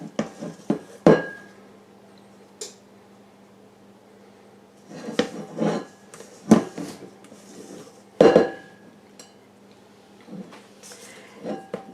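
A spoon scrapes and clanks against a metal baking pan and bowl while coffee cake batter is spooned in a kitchen, giving sporadic loud knocks and clinks separated by quieter stretches.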